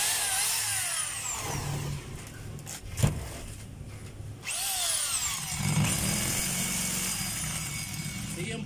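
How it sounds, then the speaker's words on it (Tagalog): A DeWalt D25032 rotary hammer drill runs loud and close in long steady bursts, with a brief pause and a sharp knock midway before it starts again. "Testing na lang natin yung hammer mga kabay kung malakas."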